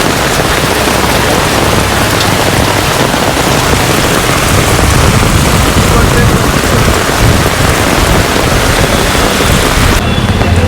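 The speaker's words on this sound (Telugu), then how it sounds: "ఫుల్ వర్షం పడుతుంది." Heavy rain pours down in a steady, loud, dense hiss that holds without a break for the whole stretch, with no clear voices over it.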